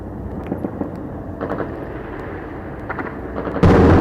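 Scattered distant gunshots crack at irregular intervals in a war zone in central Gaza, then a louder burst of rushing noise comes in at the end.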